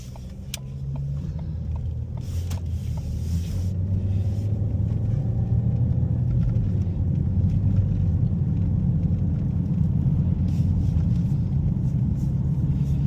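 Highway traffic on the way to school shows up as a continuous low car rumble that builds slightly, heard from inside a moving vehicle, with a few faint clicks early on and no talk.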